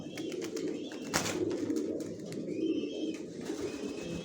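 A racer pigeon chick of Johnson line flaps its wings nearby while pigeons coo softly in the background, with one sharp burst of flapping standing out amid the steady low cooing.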